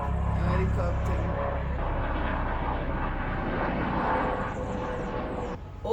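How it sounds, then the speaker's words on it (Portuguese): Helicopter passing over an apartment balcony, a steady, loud rotor and engine rumble sustained throughout, with people talking over it. "Ai, tem um Helicóptero."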